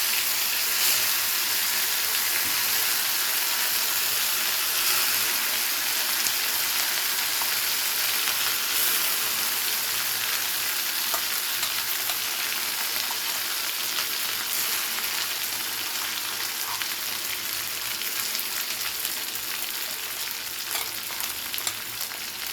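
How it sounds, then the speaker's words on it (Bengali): Ground bottle-gourd-leaf and prawn paste fries in hot oil with a dense, continuous loud sizzle and crackle that holds steady throughout, with no voices. "তেলটা হালকা গরম করে নিয়ে তেলের মধ্যে এবারে বাটাটাকে দিয়ে দেবো।"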